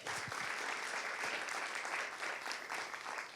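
A live storytelling event audience claps and cheers in a dense, continuous ovation that holds at an even level from start to finish, with no speech on top.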